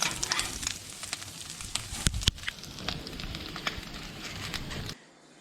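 Constant crackling sizzle of potatoes on a hot barbecue grill with scattered sharp pops and snaps, fairly close, ending abruptly in near silence.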